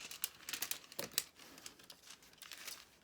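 Paper from a journal kit is folded back with faint, close crinkling and soft rustles in quick irregular bursts, quiet and without talk.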